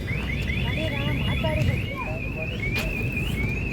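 A car alarm sounds as the car is locked, a run of repeated warbling electronic chirps that carries on throughout over a rough outdoor rumble.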